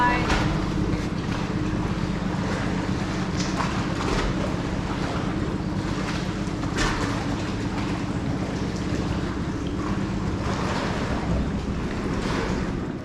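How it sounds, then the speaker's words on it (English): Steady rushing water splashing and churning close by against rocks, with a hollow wash echoing from nearby caves and some wind buffeting the microphone. "the sound of the water, and the water echoing in the caves nearby"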